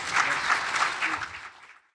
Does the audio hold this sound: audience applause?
yes